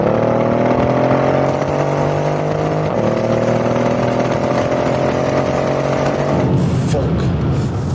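A Mercedes-AMG engine in Sport Plus mode hums with a steady, loud droning tone from inside the cabin, shifting pitch once as it drops down a gear, then a rougher surge near the end.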